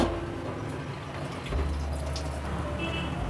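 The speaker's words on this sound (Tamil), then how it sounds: "வெள்ளத்தண்ணி நல்லா கொதி வருது." A pot of jaggery water, made for sweet rava kolukkattai, comes to a boil with a soft, steady bubbling hiss and faint pops, close and continuous, deepening slightly midway.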